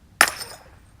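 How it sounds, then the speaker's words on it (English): A steel hammer strikes obsidian once to knock off a spall, giving a single sharp, close crack with a brief ringing decay. "see if we can pop another spall off there"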